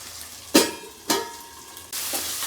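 Mutton liver curry is stirred in a pan under a lid, two distinct scraping strokes over a continuous sizzle, which swells louder near the end as the pan is uncovered; no one talks.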